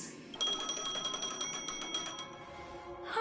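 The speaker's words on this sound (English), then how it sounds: "A phone. Wanna listen in?" A phone rings in the video game Honkai: Star Rail, a bright electronic ring repeating in quick pulses for nearly three seconds, moderately loud and alone, then stopping.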